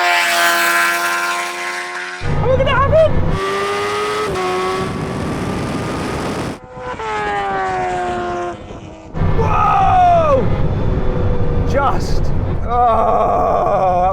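Bugatti Chiron Super Sport, Kawasaki H2R and Ducati Panigale SP2 in a standing quarter-mile drag race, with engines droning and rising in pitch through gear changes, loud and close, under excited commentary.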